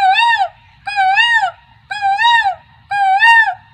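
A human voice imitates a cuckoo's call: four loud, close, tonal whooping calls with rising-falling pitch, evenly spaced with brief pauses between, alone without talk.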